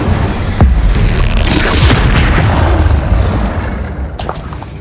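Spell blasts boom heavily in Hogwarts Legacy combat, a loud, dense rumbling roar with sharp bursts layered through it that eases slightly toward the end.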